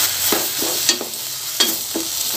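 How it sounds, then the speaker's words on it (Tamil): Onions, tomato and mixed vegetables sauté in a pan for kadamba chutney, a steady close sizzle broken by a few sharp scraping stirs of a spoon against the pan. "நல்லா வதங்கிட்டுருக்கு"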